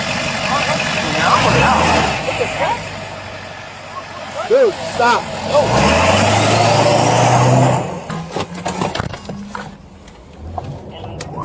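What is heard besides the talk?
car engine running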